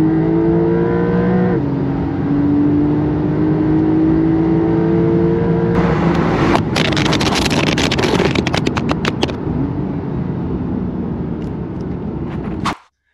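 A Porsche sports car accelerates hard along an empty road, its engine rising in pitch through several gear changes with a loud, close roar, then a burst of rapid crackling exhaust pops before the sound cuts off abruptly.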